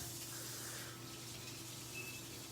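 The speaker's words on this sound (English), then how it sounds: "I'm going to get some hot water from the sink." Hot water, about 105 degrees, runs steadily from a kitchen sink tap as a soft, even hiss that holds for a few seconds without any voices.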